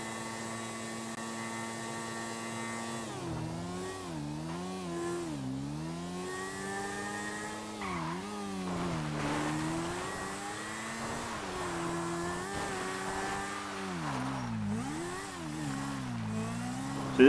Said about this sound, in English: this doesn't seem too slow for an unupgraded motorbike